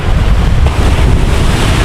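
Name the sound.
strong wind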